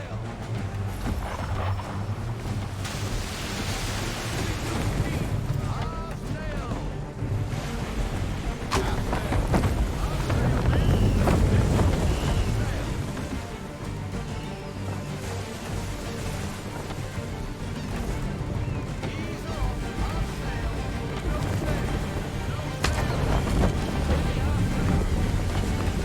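A sailing ship moving at full sail in Assassin's Creed 3, with a continuous rushing of wind and water and loud swells, and voices speaking over it.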